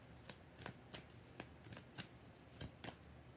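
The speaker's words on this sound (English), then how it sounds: "When new cards are great cards, they always shuffle like butter." New tarot cards being shuffled give a series of soft, crisp riffling bursts, about eight quick flutters at an uneven rhythm, close and fairly quiet with no talk over them.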